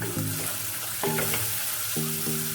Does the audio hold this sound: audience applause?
no